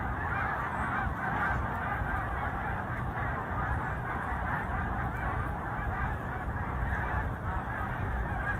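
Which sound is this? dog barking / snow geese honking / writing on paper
snow geese honking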